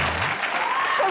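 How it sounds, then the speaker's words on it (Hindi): Studio audience applause on the Comedy Nights With Kapil comedy show set: a dense, steady wash of many hands clapping at once, loud and continuous for a brief burst. "जोरदार तालियां एक बार।"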